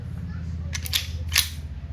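A KWC 75 competition CO2-powered airgun pistol in 4.5mm firing steel balls, two or three sharp, close snapping shots in quick succession over a low steady hum.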